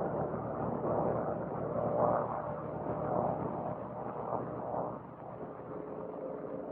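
P-39 aircraft landing, carried as a steady, muffled engine drone with a soft, rising and falling whoosh, fairly faint and distant, with no voices present.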